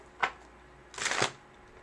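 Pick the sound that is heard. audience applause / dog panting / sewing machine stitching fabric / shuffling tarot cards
shuffling tarot cards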